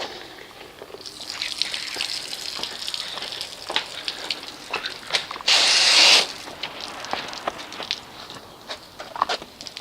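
A garden hose sprays water while a car is being washed, a close hissing gush with patters and trickles and one brief louder, steadier burst in the middle.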